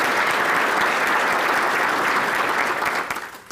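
An audience at an economic forecast event applauds steadily: close, loud, dense clapping without pause that fades away in the final moments.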